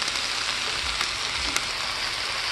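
Shrimp cooking in a pan, a loud, constant close sizzle of frying with a couple of soft clicks from stirring, no voices over it.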